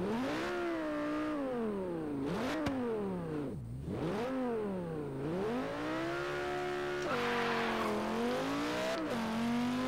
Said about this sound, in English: I really like how loud this Lamborghini is